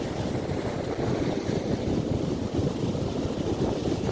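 Sea waves break at a fishermen's shore with a dense, continuous rumbling roar mixed with strong wind buffeting the microphone, loud and unbroken throughout.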